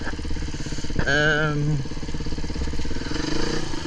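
A Beta enduro motorcycle idles with a steady, pulsing low engine thrum, close by, under someone talking throughout.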